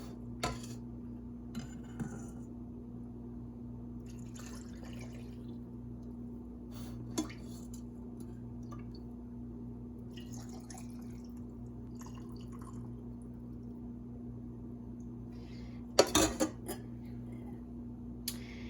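Pollo guisado stew base is poured into canning jars in a quiet kitchen, giving faint wet drips and splashes with occasional light clinks of glass and utensils over a steady low hum.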